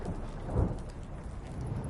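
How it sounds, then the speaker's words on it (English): Thunderstorm with heavy rain pouring steadily, and a low rumble of thunder swelling briefly partway through beneath the continuous downpour, heard around a boat. "Didn't bargain for no storm."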